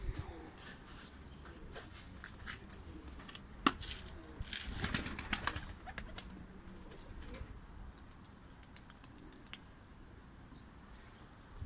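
A Diyarbakir White pigeon flying outdoors: faint, scattered wing flaps and clatters with occasional coos nearby, quiet and somewhat distant.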